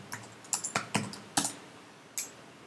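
Close keystrokes on a computer keyboard while entering a terminal command, a quick irregular run of clicky taps with short pauses between.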